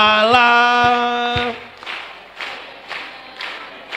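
A church congregation sings a hymn at first, then claps along in steady rhythmic bursts, roughly one clap every half second, fairly close and loud.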